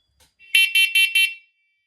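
A First Alert wired smoke and carbon monoxide alarm sounds four loud, shrill beeps in an even rhythm, close by, with no talking over them.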